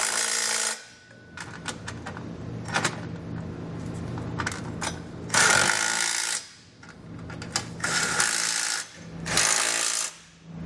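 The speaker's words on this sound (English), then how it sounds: "we can take a 19mm socket and snug everything down" A 19mm socket on a ratchet snugging trailer hitch bolts under a 2020 Nissan Rogue, with bursts of metallic clicking and clanking separated by brief pauses, fairly close and without talk.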